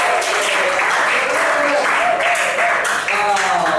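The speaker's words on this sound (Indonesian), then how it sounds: "Tepuk tangan buat Brandon" A classroom audience applauds a student named Brandon during a lesson. The clapping is dense and steady for the whole stretch, with some voices and whoops mixed into the applause.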